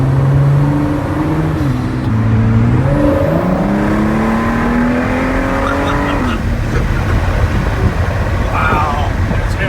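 A 2019 Ford GT engine accelerating at half throttle, heard loud and close from inside the car, its rising pitch climbing in stepped gear-like sweeps before easing off, with voices talking over it.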